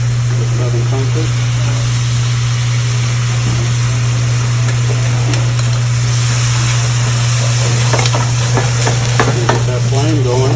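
Shrimp flambéed in a pan with Southern Comfort, basil and garlic: a steady, loud sizzle and hiss of frying with a low hum underneath and stirring scrapes, while a person talks over it.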